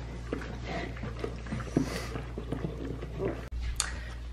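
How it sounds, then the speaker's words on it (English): A newborn Great Dane puppy whimpers and squeaks in faint, short cries with soft shuffling and suckling noises nearby during a litter birth. "Puppy number three just showed up."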